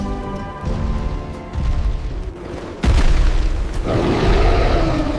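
Cartoon dinosaurs rampage and smash things, heavy booming crashes and rumbling roars building in loud successive waves, with big impacts near three and four seconds and a dense, destructive din throughout.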